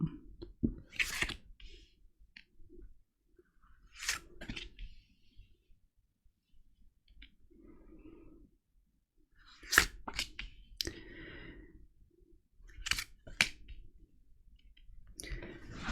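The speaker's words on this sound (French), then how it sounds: "je vous explique le tirage, je fais l'étalement" Tarot cards being spread out for a reading, giving a few sharp card clicks and soft slides in separate bursts with quiet gaps between them and no talking.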